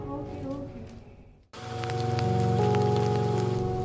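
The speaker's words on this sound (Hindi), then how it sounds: "बारिश बहुत तेज है, कहीं भीग न जाना" Heavy rain pouring steadily, a dense hiss that cuts out briefly and then returns louder and continuous, under tonal music and voices.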